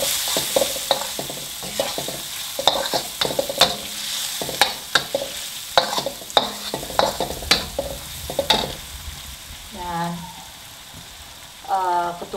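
A spatula stirring chicken noodle topping frying with turmeric powder in a pan, a soft steady sizzle broken by repeated sharp scraping clacks, with a brief voice near the end.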